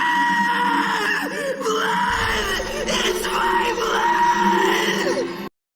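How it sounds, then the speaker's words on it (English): Gaara, an anime character in Naruto, lets out a long, anguished scream at close range, a raw strained yell that swells and wavers over several seconds before cutting off abruptly. "Gaara screams at the sight of his own blood."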